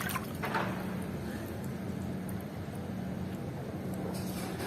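Water sloshing and splashing in a rooftop swimming pool, a continuous broad wash of watery noise with a few brighter splashes near the start, no clear talk.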